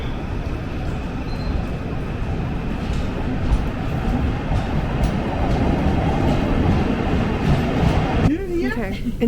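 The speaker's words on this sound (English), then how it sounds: "In the train now." A passenger train rides through London with a continuous low rumble and rattle of the carriage, steady throughout, with faint voices mixed in.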